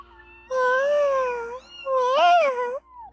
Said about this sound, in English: What are you meowing about, kitty cat?